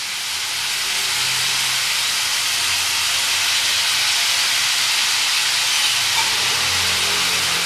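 Tomatoes hit a hot pan for kothu porotta, giving a loud, steady hiss of sizzling that holds evenly from start to finish with no voices over it.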